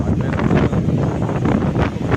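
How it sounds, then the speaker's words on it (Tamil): Strong wind roars across a microphone on a mountaintop at Parvathamalai, a steady, close, buffeting rush with gusty swells. "நாங்கள் மேலே வந்ததுக்கப்புறம் சரி பயங்கரமாக காற்று அடிச்சிச்சு"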